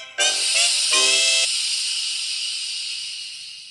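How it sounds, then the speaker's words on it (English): A steam locomotive lets off steam feebly: after a brief quiet moment a sudden broad hiss bursts out with a faint whistling tone in the first second, then continues as a long, steady hiss that slowly fades. "He just let off steam feebly."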